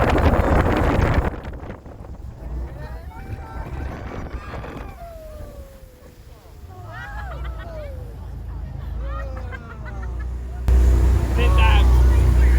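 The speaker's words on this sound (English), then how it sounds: "the driver cuts the power and turns hard, sending the boat around for a 360-degree spin" A jet boat in Queenstown swings through a hard 360-degree spin after the power is cut, with loud wind and water rush, whistling and squealing passengers, and a surge of engine and spray noise near the end.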